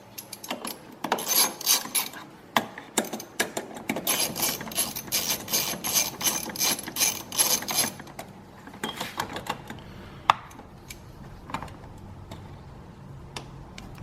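A ratchet wrench removes two 10mm fasteners from a BMW E90 fuel pump module, giving close, rapid clicking in long runs, then pauses, sparser clicks and a sharp knock near the end.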